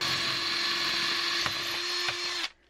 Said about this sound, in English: Now I'm just going to put this hole in the block with my masonry bit.